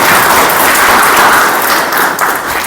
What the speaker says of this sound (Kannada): ಅವರಿಗೆ ಒಂದ್ಸತಿ ಚಪ್ಪಾಳೆ ಮೂಲಕ ಸ್ವಾಗತ ಪಡಿಸಿದ್ದಾರೆ